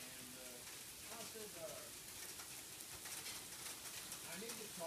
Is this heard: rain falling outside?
yes